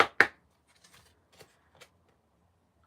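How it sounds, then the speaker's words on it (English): A sharp riffle of tarot cards followed by a few soft, scattered taps and snaps of cards being handled, close and quiet. "enough of this shuffling"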